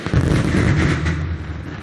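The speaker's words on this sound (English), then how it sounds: "They're loud, the old pyrotechnics, I'll give them that." Podium pyrotechnics going off at a MotoGP race celebration, a loud continuous roar of blasts and rumbling booms that fills the whole moment with no pause.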